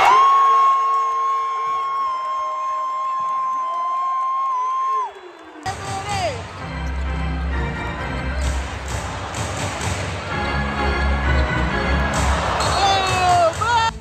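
A crowd at a Liberty basketball playoff game cheers and whoops loudly in a bustling arena, following a sustained tone that cuts off abruptly; shouts rise and swell toward the end.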